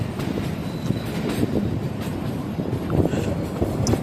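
Kalka–Shimla narrow-gauge toy train climbing a winding mountain line, giving a steady rumble of wheels and carriage noise with occasional clicks and squeals, close and continuous.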